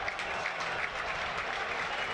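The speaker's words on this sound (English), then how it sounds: "Chris Wood going off and getting a round of applause from the Burnley fans as well." Burnley fans clap in a football stadium during the Premier League match against Newcastle, a steady wash of crowd applause that stays constant for its whole length.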